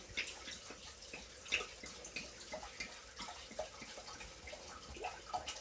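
A whole bottle of wine poured into a big, heavy saucepan for mulled wine, giving a steady, soft liquid trickle with faint splashes and drips throughout, quiet and without talk.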